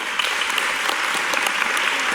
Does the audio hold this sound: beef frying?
no